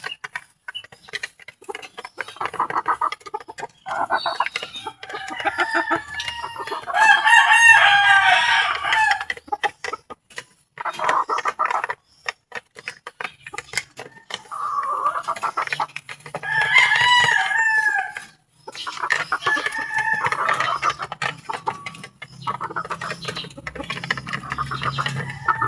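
Several chickens on a farm cluck steadily while roosters crow loudly in repeated bursts, up close and with no talking, hens and cocks fed on organic scraps.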